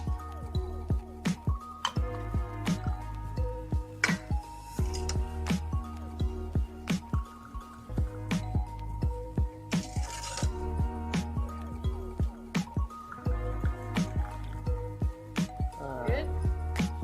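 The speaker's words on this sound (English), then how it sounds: "I'll start ladling it to the cups." Masala chai is ladled from a pot into cups, giving repeated close clinks, scrapes and liquid drips in an irregular rhythm, with people chatting quietly in the background.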